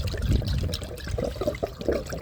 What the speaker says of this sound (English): now you can pour water through the gas thing